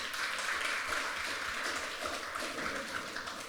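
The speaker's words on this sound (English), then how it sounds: "So, a short round of applause for all of our panellists." A conference audience at a psychedelics Q&A session applauds the panellists, a steady broadband wash of clapping from a room full of people that holds at an even level throughout without letting up.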